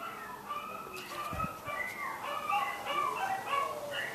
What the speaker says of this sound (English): Get some audio of these squealing dogs.